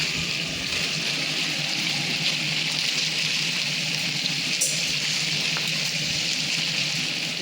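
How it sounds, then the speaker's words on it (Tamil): Half a pot of water pours steadily into the masala for a 10 kg Dindigul-style mutton biryani, a constant rushing gush with a faint sizzle beneath it, close and unbroken throughout. "இப்போ வந்து மசாலாவில் தண்ணி ஊற்றிக்கலாம்."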